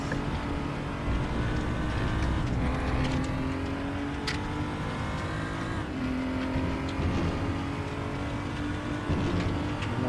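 BMW M235i Racing engine held at full throttle around the Portimao circuit in a racing video game, a loud continuous drone with steady rising and falling pitch as gears change, alone throughout.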